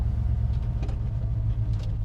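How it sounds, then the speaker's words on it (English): Ford F100 truck with a Coyote 5.0 V8 swap, its engine running with a deep, steady low rumble at close range, no voices over it. "You just hit the key and fire it up."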